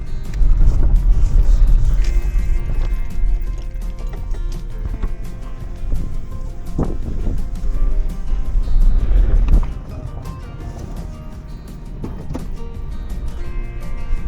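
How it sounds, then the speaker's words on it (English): A 2001 Ford Ranger pickup rumbles with a loud, low engine drone as it is shifted from reverse to drive. The heavy vibration swells and then eases slightly, with a few clunks along the way. "it like rumbled when I threw it from reverse to drive"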